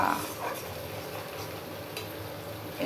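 Potatoes and soybean chunks being stir-fried in a pan for kosha, a quiet, even sizzle with faint scraping of the spoon close by.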